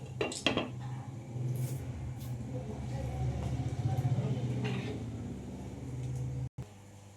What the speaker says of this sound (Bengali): ঢাকনাটা খুলে একবার আমি নাড়াচাড়া করে নেব ভালো করে। দিয়ে আবারও আমি ঢাকা দিয়ে দিলাম।